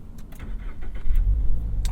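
A 2022 Toyota GR86 with a six-speed manual starts up nearby, a short crank followed by a rising low engine rumble that settles into idle, with a few clicks and key jingles.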